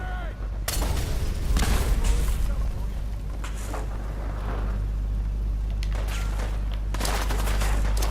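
A grenade explosion and rattling gunfire in the Fallout 4 game, booming blasts and rapid volleys of shots over a constant low rumble, with voices shouting amid the combat.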